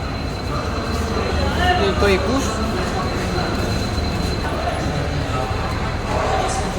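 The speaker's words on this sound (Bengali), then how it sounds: "একটা জনবহুল আর ব্যস্ততম রেল স্টেশন হাওড়া স্টেশন" Busy Howrah railway station platform with dense crowd murmur, train and rail noise, faint squeals and announcements in the background, as a voice talks close by over the steady din.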